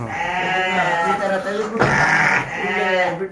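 Sheep bleat repeatedly on a farm holding about 300 sheep, several overlapping calls close by, while someone talks over them.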